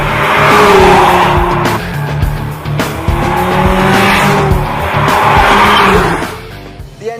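A Mercedes-Benz A45 AMG with a four-cylinder engine is driven hard on a track, its engine roaring loudly and close, revving through gear changes while the tires squeal and skid through corners.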